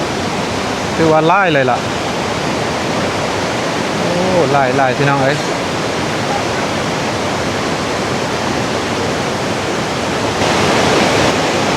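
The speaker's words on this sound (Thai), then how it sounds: "เป็นจุดน้ำตกที่ว่าใหญ่โตพอสมควร" Large waterfall at Khon Pla Soi on the Mekong in southern Laos, a steady loud roar of rushing water throughout, with someone talking briefly over it twice.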